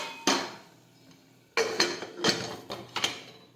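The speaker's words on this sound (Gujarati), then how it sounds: "હવે આપણે કુકરનું ઢાંકણ છે તે બંધ કરી દઈશું." A pressure cooker lid being closed over cowpea curry; a single metallic clank, a pause, then a quick series of clattering knocks and scrapes as the lid is fitted and locked, close and fairly loud, no talk.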